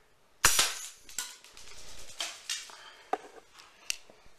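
A homemade CO2 airsoft gun firing BBs at targets, giving sharp close pops spaced irregularly, the first loudest, with faint clicks and rattles between shots.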